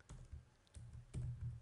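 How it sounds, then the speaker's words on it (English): Keys clatter on a computer keyboard as an email address is typed, several quick bursts of close, quiet clicks separated by short pauses. "go to compose and type in the email we just used"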